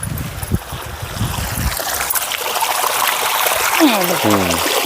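Water flowing from a borewell pipe makes a steady trickling stream, close by, while someone talks over it partway through.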